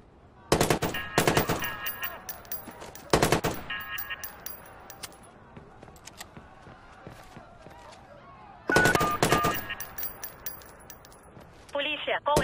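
In Watch Dogs, loud bursts of automatic gunfire ring out in several separate volleys with quieter stretches between, mixed with metallic clinks and a voice speaking at times.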